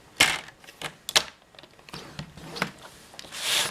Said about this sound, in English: we're going to score from this 2-inch score line